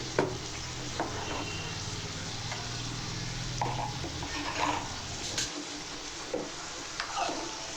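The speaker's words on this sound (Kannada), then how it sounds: "ಇರಳಿಕಾಯಿ ಎಲ್ಲ ಚೆನ್ನಾಗಿ ಎಣ್ಣೆಯಲ್ಲಿ ಫ್ರೈ ಆಗಿದೆ" Citron pieces frying in oil in a pan for a pickle, a steady close sizzle with occasional stirring clinks and scrapes, no voices.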